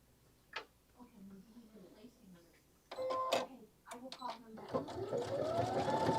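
A Soprano sewing machine stitches out a decorative lettered phrase, starting with scattered clicks and taps, then breaking into a rising mechanical whir and rapid stitching that grows louder toward the end, with a person talking early on.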